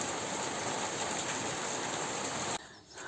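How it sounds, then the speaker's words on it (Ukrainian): Rain shower pouring down over a vegetable garden, a dense steady hiss of drops that drops off abruptly near the end, no voices. "О, яка злива хоч пішла."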